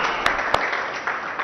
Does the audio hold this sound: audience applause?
yes